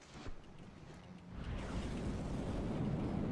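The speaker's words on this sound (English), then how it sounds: "look at that massive volley of EMP missiles going in" Volley of EMP missiles striking a target in the video game From The Depths: a dense, rumbling roar of overlapping impacts that swells and holds loud and steady, with no talk over it.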